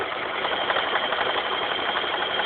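Sewing machine stitching a quarter-inch seam across a T-shirt quilt block, a steady close-up whirring run with fast even needle rhythm throughout, heard alone.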